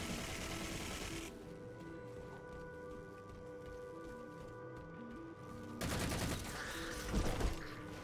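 Sustained turret gunfire in Halo 4 rattles on as a dense, steady stream of rapid shots, then turns louder and harsher toward the end with a heavier burst or impact.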